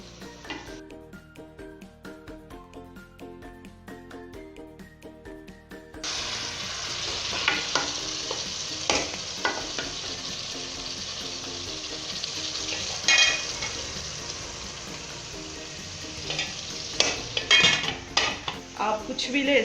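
Minced meat (keema) with bitter gourd frying in a pan, steady sizzle that grows louder partway through, with spatula stirring and metal scrapes and clinks against the pan, no talking.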